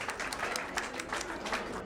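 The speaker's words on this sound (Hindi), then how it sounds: "शुक्ला परिवार की सभी प्यारी लेडीज के लिए, महिलाओं के लिए जोरदार ताली हो जाए, जोरदार।" Audience applause at a sangeet (Indian pre-wedding music and dance) performance, steady dense clapping that stays loud and even throughout, with no speech over it.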